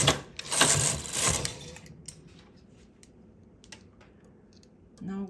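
A knitting machine carriage sweeps across two rows, giving a loud sliding clatter over about the first second and a half, followed by quieter clicks and handling taps.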